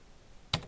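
A single quiet click of the Tab key on a computer keyboard, sharp and brief, lands near the end after a stretch of faint room hush.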